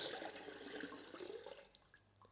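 Water trickles and drips during a rinseless wash of a muscle car, a soft splashy flow that thins out toward the end, with a few scattered drips standing alone near the close.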